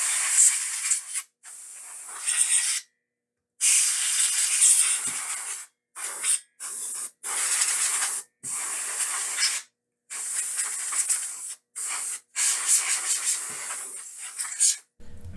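Compressed air blasts dust out of an Original Xbox power supply in a series of loud, close hissing bursts of varying length with brief silent gaps between them.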